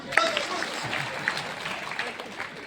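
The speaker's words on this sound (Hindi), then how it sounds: "इसके लिए थोड़ी सी ताली बजाओ।" Children clapping in a group, a scattered patter of hands running throughout at moderate level, with a voice and some chatter mixed in.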